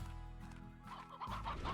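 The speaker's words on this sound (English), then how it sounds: "These poor hens, they thought they were safe." Hens clucking in a video game, a busy overlapping flock with a rooster among them, continuous and close, with the calls growing louder and more agitated in the second half.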